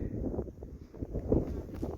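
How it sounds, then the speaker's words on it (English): Low, gusty rumble of wind buffeting a microphone in the Stirling Ranges, rising and falling in uneven bursts, close and fairly loud with no clear talking. "it is pretty windy up here, so I'm hopefully shielding the microphone adequately"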